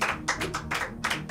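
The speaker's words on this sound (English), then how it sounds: "Clap" Several people clap in a loose, uneven rhythm at a comedy show, about five or six sharp bursts close by, without any talk.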